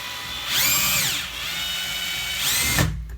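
A Parkside PABH 20-Li B2 cordless drill backing a screw out of fir wood, with two rising-and-falling motor whines separated by a steadier stretch, close and loud, ending in a brief clunk.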